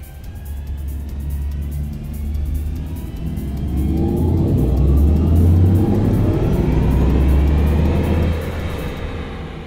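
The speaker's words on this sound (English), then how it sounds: "this is a sports car and it's got two big electric motors" An Audi RS e-tron GT electric sports car with two electric motors hums past with a smooth rising and falling whine and low road rumble, swelling louder midway then easing off, no engine roar.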